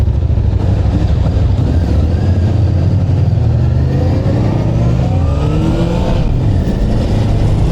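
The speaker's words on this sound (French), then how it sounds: "Oh, le bruit de cette meule" Four-cylinder motorbike engine revving loudly and close on an alpine road trip, a continuous roar with rising pitch sweeps as it accelerates.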